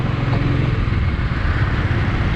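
A motorcycle ridden slowly gives a steady, low engine rumble close by, mixed with road and wind noise, continuous throughout with no talk.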